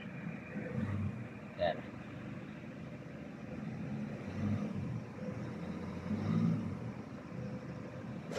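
A Peugeot Partner's engine runs at idle with a check-engine light on and a diesel particulate filter restriction fault, a faint steady rumble under someone speaking nearby.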